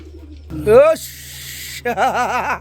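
Garra pigeons at a wholesale pigeon sale give close, throaty coos, one rising call followed by a rolling, wavering series, with people talking nearby.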